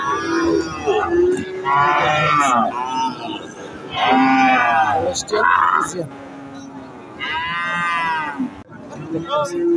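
A small Holstein Friesian bull at a cattle market gives several drawn-out moos in bursts across the stretch, loud and close, with people talking nearby.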